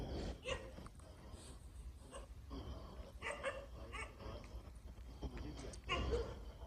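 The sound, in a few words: dogs barking at night in graveyard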